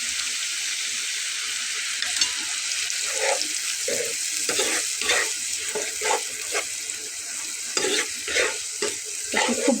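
Spice paste for a hilsa fish head and taro leaf dish sizzles in a pan while being stirred, a steady frying hiss broken by repeated scraping strokes of the spoon, close and without talk.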